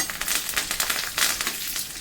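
Curry leaves crackle and sizzle in hot oil for a tempering, bursting in quick, uneven pulses of spitting close up, with no talking.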